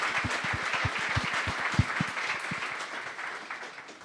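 Scattered clapping from a modest group, individual claps distinct and uneven, fading gradually as it goes on.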